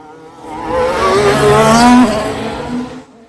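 A Formula One race car roars past at close range at the Canadian Grand Prix in Montreal, its high engine whine swelling and then fading as it goes by.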